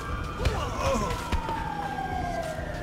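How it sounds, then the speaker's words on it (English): An ambulance siren wails in the GTA 5 video game, a falling tone sweeping down across the clip at moderate distance, with a few thumps and faint background sound around it. "Do you hear the ambulance over there?"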